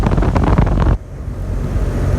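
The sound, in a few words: Rheem 5-ton outdoor air conditioner unit fan running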